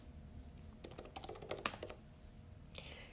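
Close-up computer keyboard typing while entering a page title in OneNote, a quick burst of light clicking keystrokes over a faint background hum, with no voice.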